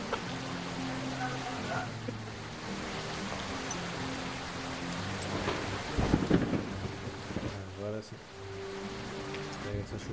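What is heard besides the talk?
thunderstorm and rain effect in Tormenta20 RPG game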